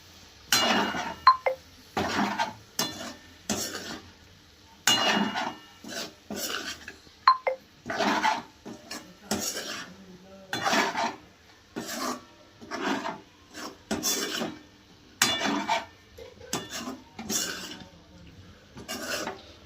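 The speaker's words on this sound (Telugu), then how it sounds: "ఒకసారి మొత్తం అంతా ఫ్రై చేసుకుందాం." Prawns fry in a pan with curry leaves and coriander, stirred with rhythmic, repeated scraping and rasping strokes against the metal and occasional light clinks, close and steady.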